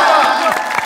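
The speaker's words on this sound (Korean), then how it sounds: "우리 저 현빈 씨한테 박수 한번 주세요." Studio audience on a Korean variety show breaks into crowd applause and cheering for actor Hyun Bin, a dense, continuous wash of clapping and voices at close range.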